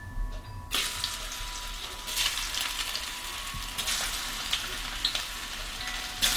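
Potatoes sizzle and crackle in hot grease on a wood cookstove, a steady close frying hiss that flares up several times with sharp pops.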